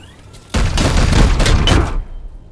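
Gunfire in the video game Warhammer 40k: Chaos Gate - Daemonhunters, a loud, dense burst of shots and booms lasting about a second and a half, then cutting off sharply into quiet.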